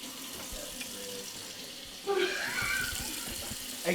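Tap water runs from a sink faucet in a steady rush that grows louder and nearer partway through, with faint voices in the background.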